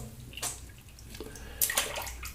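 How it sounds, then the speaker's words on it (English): Tap water splashing into a basin while rinsing after a wet shave, a low continuous rush with a few brief louder splashes near the start and toward the end, close by with no voices. "All right, let's rinse."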